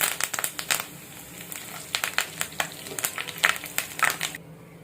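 Curry leaves, dried red chilies and tempering seeds crackle in hot oil in a pan, bursts of sharp spattering pops in irregular clusters over a low sizzle before it cuts off.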